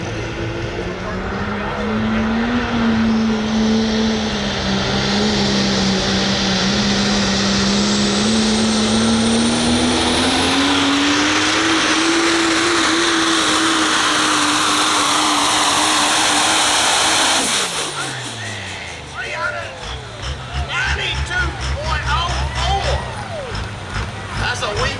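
Super Stock Diesel 4x4 truck pulling a sled at a diesel truck pull, a loud sustained engine roar with a droning tone that rises and falls, then winds down into rattling and clatter as the run ends.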